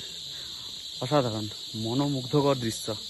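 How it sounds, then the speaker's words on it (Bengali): Crickets in a hill forest keep up a continuous high, steady chirring in the background while a person talks over them. "ঝিঝি পোকার ডাক"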